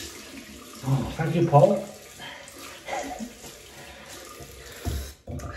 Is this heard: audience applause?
no